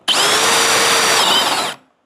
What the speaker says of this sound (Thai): อันนี้เป็นไม้โอ๊กหนาประมาณ3เซนครึ่งนะครับ โดยประมาณนะครับเดี๋ยวผมก็จะลองเจาะดูนะครับ